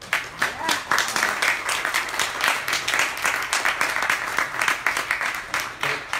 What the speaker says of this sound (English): If we get another round of applause for them.